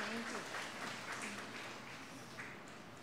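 A church congregation at a Marathi novena applauds to thank a visiting choir from Amboli, a soft, steady patter of many hands clapping at a distance for the whole stretch.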